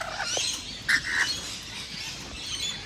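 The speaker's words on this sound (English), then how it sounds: "Very interesting mix of birds today." A few short bird chirps and squawks stand out against a steady outdoor hiss, with calls of differing pitch.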